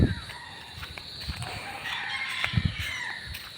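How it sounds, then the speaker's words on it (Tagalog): Chickens calling faintly in the distance, with a rooster-like crow amid outdoor ambience and scattered thumps and rustles nearby. "Yung mga manok dun oh, nilabas."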